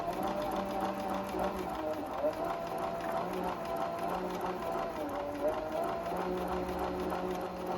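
A sewing machine stitches fabric with a steady, fast mechanical whirr and needle clatter heard up close, running continuously without a break.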